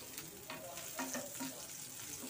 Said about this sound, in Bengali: হালকা গোল্ডেন কালার করে ভেজে নেব